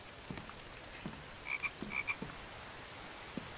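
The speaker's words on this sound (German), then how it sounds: "ah ihr Frösche, seid froh, dass ich von euch jetzt gerade nichts will" Frogs croak in short paired bursts in the survival crafting game The Infected, a few distinct calls clustered mid-clip over quiet ambient background with faint thuds.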